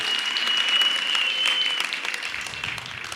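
Applause from a comedy show audience, brisk and fairly close at first, then easing and thinning toward the end while a low murmur of voices creeps in underneath.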